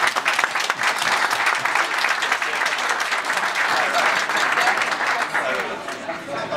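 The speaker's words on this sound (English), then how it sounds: "I think we should give a big hand of applause for Richard and what he's done for us." Sustained applause from an audience at the Natural Stone Show, steady dense clapping with some crowd murmur, loud and continuous throughout before tapering slightly at the end.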